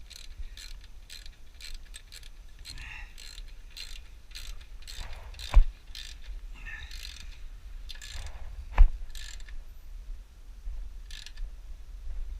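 Quick ratchet clicks from a hand wrench tightening an exhaust clamp while fitting a race can to a Suzuki Bandit 650, in bursts of rapid clicking with brief pauses and two sharper knocks.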